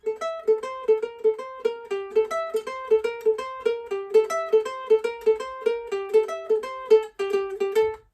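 A ukulele picks out a bright, steady melody, one clear note after another in an even rhythm, with no voices.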